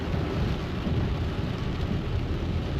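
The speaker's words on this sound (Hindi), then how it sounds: "इलेक्ट्रॉनिक सिटी में बहुत तेज बारिश है, भयंकर तेज बारिश है।" Heavy rain in Electronic City, a dense, loud, continuous wash of downpour with a low rumbling undertone and no pauses across the short stretch.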